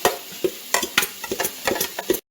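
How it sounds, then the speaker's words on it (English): Onion going into a hot pan for enchiladas verdes, with repeated short scrapes and stirring strokes over a soft sizzle, close and clear with no talking. "And in goes the onion."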